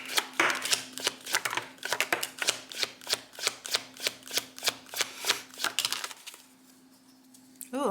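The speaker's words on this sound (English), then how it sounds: "You saw me shuffle, right?" Playing cards shuffled by hand in a rapid run of crisp riffling snaps, about twenty close clicks in steady rhythm, ending in a brief quiet pause.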